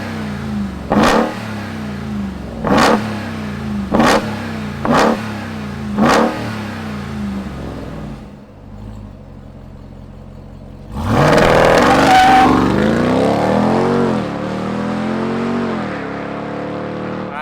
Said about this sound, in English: let's fire up this muscle car of a truck and hear what it sounds like